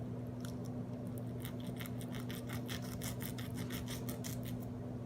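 A knife slices and scrapes through fat on a raw pork butt, a series of quick rasping strokes growing denser toward the end, close and clear over a steady low hum.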